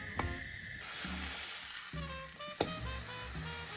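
Bread coated in a vegan egg mix fries in a pan, giving a steady close sizzle with a couple of sharp crackles and taps from the pan.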